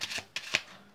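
A deck of playing cards shuffled by hand during a card trick, a few quick riffling bursts and soft slaps, close and quiet with no talking.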